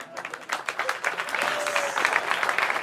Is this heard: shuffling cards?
no